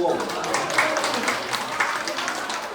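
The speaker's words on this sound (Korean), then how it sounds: "박수 한번 쳐주시고." Audience applause during a seminar session, sustained even clapping from a group throughout, with some voices mixed in.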